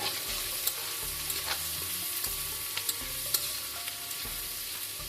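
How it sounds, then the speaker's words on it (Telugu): Thinly sliced ivy gourd (tindora) frying in a pan for a tomato curry, a continuous close sizzle with stirring scrapes and clinks throughout. "మంచిగా వేగాయండి దొండకాయలు"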